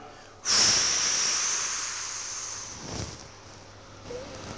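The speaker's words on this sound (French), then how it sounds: "J'inspire tout le long de façon régulière, sans à-coups, avec un petit filet d'air, et j'inspire par le nez" A long, steady inhale through the nose during a Tibetan rite whirling exercise: a sharp airy onset, then a smooth, even hiss of breath held for several seconds, close and alone, tapering off with a faint second breath near the end.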